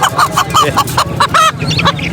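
Rooster and other fowl at a crowded livestock market, giving loud, rapid, repeated honking calls in quick bursts close by over busy background noise, with some voices faint in the mix.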